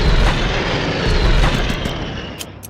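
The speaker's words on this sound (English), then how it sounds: "Airstrikes!" Airstrikes hit in the strategy video game Unity of Command II, a loud burst of aircraft roar and booming blasts that rumbles on, with sharp cracks near the end.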